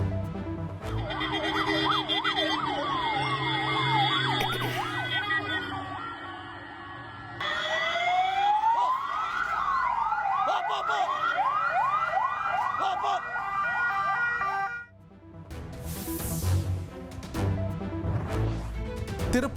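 An ambulance races along a mountain road between Gudalur and Coimbatore, its loud siren wailing and yelping continuously and shifting between rising and falling patterns, close and dominant over road noise.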